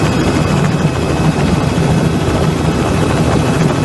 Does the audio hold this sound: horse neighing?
no